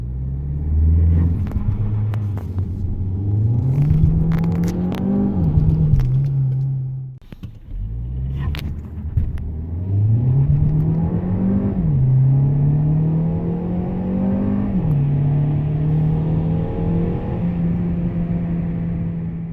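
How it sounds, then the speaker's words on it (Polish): A Peugeot 508 SW GT PureTech 225 accelerates hard from a stop on a wet road with front wheelspin, its engine droning loudly and rising in pitch through repeated gear changes, with a brief pause partway through. "traciłem po dobre 2 sekundy na boksowaniu kół"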